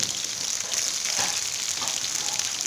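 Onions sizzle in hot oil alongside garlic, ginger and coriander for a samosa filling, a steady close crackling hiss with occasional stirring scrapes and no talking.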